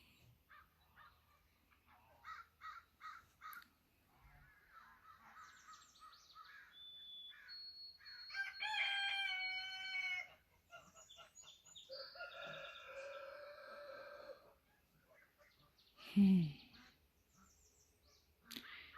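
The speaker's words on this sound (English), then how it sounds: "Yeah, ravens." Ravens call outdoors on a farm at 4:30 on a frosty June dawn, giving scattered croaks and caws that come and go over quiet gaps, with one louder, lower call near the end.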